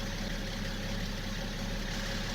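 A 2004 BMW 535d diesel engine idles steadily during a ZF automatic gearbox oil fill, a continuous low rumble with a faint hum, close and unbroken, with no talking.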